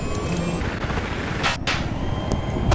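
A helicopter in a Kiasar Railroad gunner game makes a constant low rotor rumble, with sharp gunfire bursts and brief hissing cutting through it.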